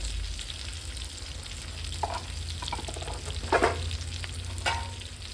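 Ginger-garlic paste and turmeric sizzle steadily in a hot pan for a village-style quail curry, with a few louder bursts as the mixture is stirred; close and continuous, no talking.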